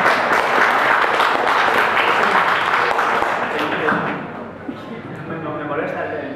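Audience applause from a panel discussion on zombies at the Valencia Book Fair, dense and steady for about four seconds, then thinning and fading.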